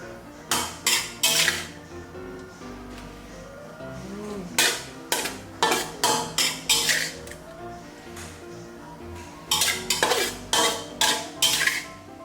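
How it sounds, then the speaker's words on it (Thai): A metal spatula scrapes and clinks against a pan in repeated short bursts while scooping sautéed shrimp and champignon mushrooms with black pepper and scallions onto a plate, close and crisp. "เสร็จแล้วเราก็ตักใส่จานได้เลยค่ะ"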